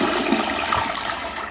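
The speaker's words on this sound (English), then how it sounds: "Toilet paper flush test." A toilet flushes with toilet paper in the bowl, a loud, close, rushing swirl of water that holds steady through the whole moment.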